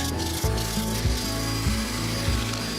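A turned iroko wood dish is sanded on a lathe, a close, loud, continuous rubbing hiss with a low rhythmic thump repeating about twice a second as it spins.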